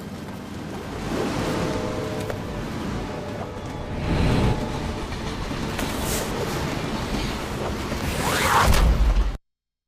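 A southbound train rumbles steadily along the rails in the stealth video game Splinter Cell: Pandora Tomorrow, a continuous clattering roar that swells near the middle and again toward the end before cutting off.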